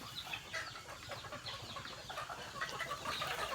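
Chickens clucking at a rural farm hut in the hills, a dense, continuous chatter of several birds close by, with no talking over it.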